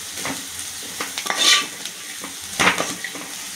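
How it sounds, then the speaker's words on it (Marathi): Spiced mushroom masala with garam masala and coriander powder sautéed in a pan: close spoon scrapes and clinks against the metal over a light sizzle, with a couple of louder stirring bursts, no voices. "आता हे चांगलं परतून घ्यायचं।"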